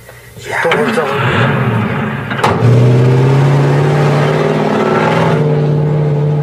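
A Russian Jeep engine in the Gobi desert catches and revs up loudly, then settles into a steady close drone with a strong low hum.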